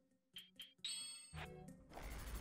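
Bells ringing in Zelda: Twilight Princess HD, a few short chimes followed by a louder ringing clang and a clattering crash, all close and clear.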